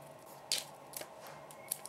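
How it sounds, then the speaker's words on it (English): Scissors cutting a line in material for a DIY glam light switch cover: three faint, crisp snips spaced apart in a quiet room, with no voices. "I'm just going to cut a line like this because it'll help fold the edges in better"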